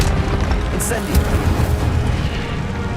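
Incendio fire spell cast in the video game Hogwarts Legacy, a dense booming burst of flame under continuous game noise and a brief bright flare, with a voice speaking alongside.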